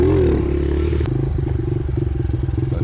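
A Honda CRF pit bike on a small dirt track runs loud and close with a buzzing, pulsing engine note that dips and rises as the throttle changes, with a brief sharp clatter partway through.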